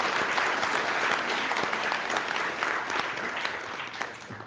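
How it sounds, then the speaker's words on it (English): A conference audience applauding its speakers: a continuous, fairly even crowd clapping throughout, moderate in level and slowly fading near the end. "let's give all of the speakers a round of applause"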